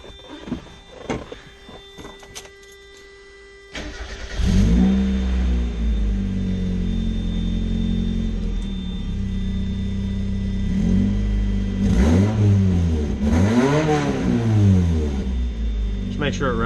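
A Mazda Miata NA engine cranks and starts near the 4-second mark after a recent spark plug, valve cover gasket and CAS job, then idles loudly and revs up sharply several times, with light handling noises and a voice before the start.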